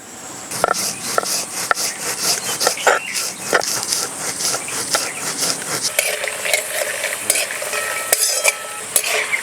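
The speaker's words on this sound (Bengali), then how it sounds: "এবার শিলে তিল বেটে নেব।" Sesame seeds are ground on a flat stone slab with a stone roller, producing close, irregular gritty scraping strokes and rough rubbing bursts.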